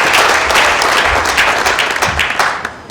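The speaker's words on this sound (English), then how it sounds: "Another round of applause, ladies and gentlemen." An audience at a hospital foundation-stone laying ceremony bursts into loud, dense applause that carries on for several seconds, thinning slightly toward the end.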